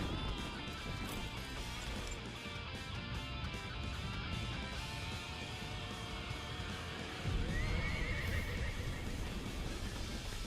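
A horse whinnies amid the din of a Warriors Orochi 3 Ultimate battle, with hoofbeats, clashing effects and music forming a dense, constant wash of game sound.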